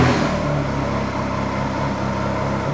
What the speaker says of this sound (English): We gotta give it a little gas